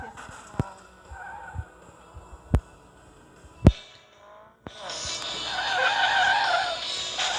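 A video game car drifts with tyres skidding and squealing, a few sharp thuds early on, then a long loud screech of sliding rubber near the end, with speech from players around it.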